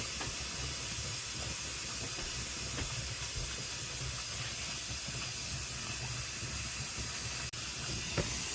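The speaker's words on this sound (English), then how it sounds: "See how the steam is coming out?" Steam hisses steadily from a pressure canner processing carrots, a continuous broadband rushing noise at close range with no pause, fairly quiet overall, with a faint click near the end.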